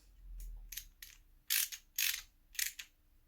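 Small cap screws are snugged down on a Losi 5B center differential, giving a quiet series of short, sharp clicking and ratcheting bursts, about six of them in quick, uneven succession.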